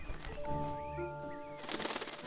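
A faint golden-shouldered parrot gives soft whistled calls at a distance, followed by a brief rustle like wings or movement.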